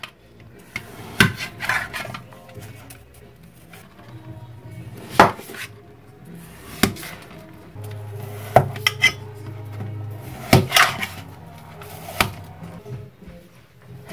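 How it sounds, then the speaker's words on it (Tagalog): A knife cracks and scrapes through a block of frozen Cadbury hot chocolate, making sharp clinks and knocks in scattered bursts with a low hum underneath and no talk. "Tapos, using a knife, i-break apart lang natin siya."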